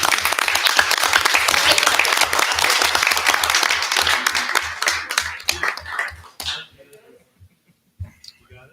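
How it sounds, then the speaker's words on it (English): An audience at a school board meeting claps steadily, then the applause thins and fades to scattered last claps and near silence, with faint murmuring toward the end. "Let's give them another round of applause."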